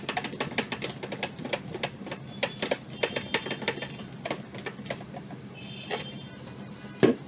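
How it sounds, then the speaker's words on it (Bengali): Screws being driven into a UPS 12V battery case, a rapid series of sharp close ticks and clicks in an uneven rattling rhythm, with no talk. "এখানে আমি স্ক্রুগুলো লাগাচ্ছি।"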